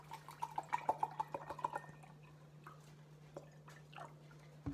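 Water poured into a mug for a morning cup of matcha green tea, heard as a quick run of close, light splashing drips over a steady low electrical hum, then fading to quiet.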